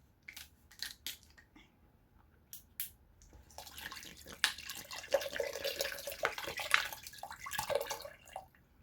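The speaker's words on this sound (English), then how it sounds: "I'll add another bottle of water to go with that" Water glugs and splashes from a bottle into a pot of beef neckbone stew, starting with a few sharp knocks and handling sounds, then a louder sloshing pour that runs several seconds, close up and unevenly.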